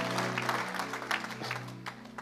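A church congregation claps to acclaim the Lord, a dense wash of many hands with some cheering, mid-distance and fairly loud over a steady low organ-like drone.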